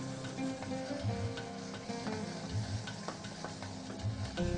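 Paneer and jaggery are stirred and cooked together in a pan, giving a soft, steady sizzle with faint scraping and ticking from the spoon throughout, and no talking.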